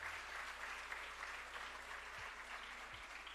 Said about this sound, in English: Let's have a big round of applause for the centum scorers.